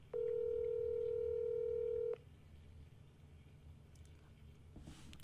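A phone call being placed: a loud, steady dialing tone rings out alone for about two seconds, then cuts off, leaving faint room noise and a brief soft rustle near the end.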